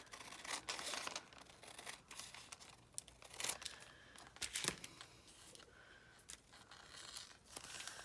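Scissors cutting paper across the bottom edge while making glassine-like bags for a junk journal, soft close crinkling snips and rustles repeating irregularly at low volume, no talking.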